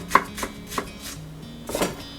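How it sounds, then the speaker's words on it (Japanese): Coarse knife chopping of green onion on a cutting board while preparing ground-meat filling for bread: several distinct, crisp chops at irregular spacing, close and fairly quiet, with no talking. "ネギは粗めにみじん切りにします。"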